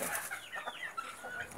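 A purebred giant chicken being picked up clucks and squawks in short rising calls close by, several bursts in quick succession against a light background.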